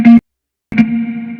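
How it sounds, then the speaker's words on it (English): A guitar sample runs through a Fender Twin Reverb amp effect in Ableton, giving a short sustained note, a brief gap, then another ringing tone with a slightly distorted, chorused character. "I'll just put like a twin reverb over it"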